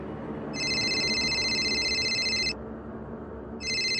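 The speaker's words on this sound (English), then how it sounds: "The office phone rang." An office telephone rings loudly in two bursts, a long electronic trill for about two seconds, a pause, then another ring starting, over a low steady background hum.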